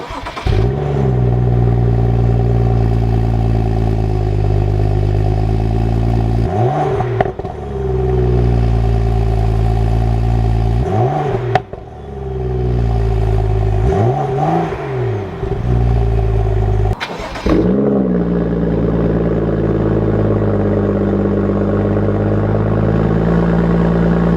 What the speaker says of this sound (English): let's go ahead and start the car up, get some sound bites